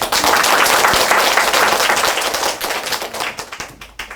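Loud, dense applause from an audience at an academy information session in Daechi, a full burst of clapping that holds strong and then thins out and fades over a few seconds.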